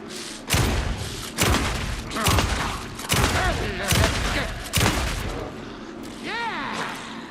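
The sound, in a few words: gunfire from the video game Alan Wake 2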